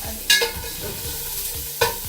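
Vegetables for soup sauté in a pan with a steady sizzle, while two bright scrapes of a spoon stirring cut through it close up.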